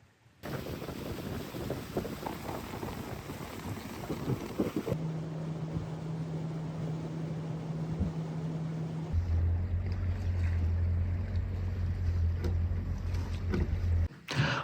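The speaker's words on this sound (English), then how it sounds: "So let's head on down to the boat and head over to Kingfisher." Continuous rumble of a boat moving over water, with wind and engine drone, a steady motor hum rising in pitch partway through.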